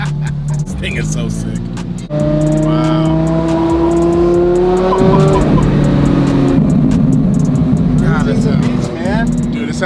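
Porsche Carrera GT manual hypercar accelerating hard, its engine note rising through the gears in loud, clear sweeps with a shift around the middle, steady road rumble underneath and people talking over it.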